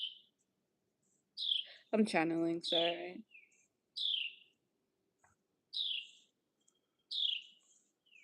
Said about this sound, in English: This the bird is so loud.